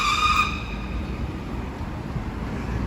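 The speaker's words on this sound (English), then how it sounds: "BMW i8." A BMW i8 sports car drives past on a downtown Miami street, with a brief tire or motor whine at the start that fades into steady, fairly close road noise.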